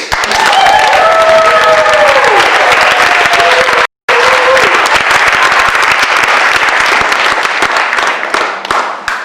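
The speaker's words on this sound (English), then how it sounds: "Please join me in rapturous applause for Reese." Wedding guests at a reception break into loud, dense applause, a sustained roar of clapping with a brief cut partway through and a voice audible beneath it early on.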